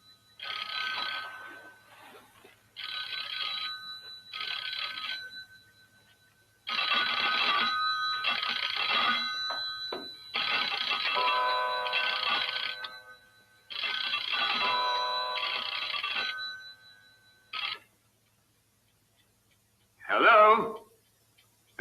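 An old telephone bell rings in repeated bursts, a few seconds each, with short pauses between, fairly clear and alone before a last brief ring.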